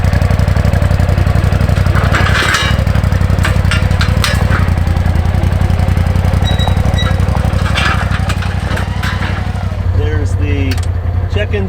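A Polaris utility vehicle engine idles loudly and close with a steady low rumble, while scattered clicks and rattles sound over it and a voice briefly comes in near the end.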